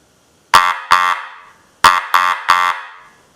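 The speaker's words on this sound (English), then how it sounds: "it's going to sound like a Mr. Magoo horn" An antique car horn blares five times in short bursts, first two, then a pause, then three more, loud and close with a buzzy, nasal tone.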